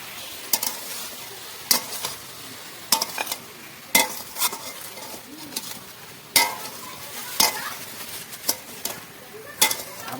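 A spoon scrapes and knocks rhythmically against a pan while food cooks with turmeric, with roughly a dozen clattering strokes over a low sizzle.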